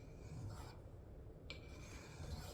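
A hook knife is rubbed against a whetstone, giving a faint, steady scraping rasp with one brighter stroke partway through.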